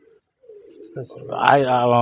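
A soft, low pigeon coo sounds briefly in a quiet space in Amreli, Gujarat, then a nearby voice begins to speak.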